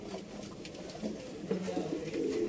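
Sialkoti and Rampuri pigeons cooing in a loft, soft low repeated coos near and fairly quiet over light background noise.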